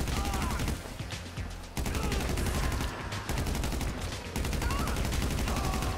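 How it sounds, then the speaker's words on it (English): Dense, rapid bursts of gunfire and popping launches in GTA 5, with flares fired at the player, run continuously and loud through the whole stretch, cutting out briefly twice. "Are they really shooting flares at me?"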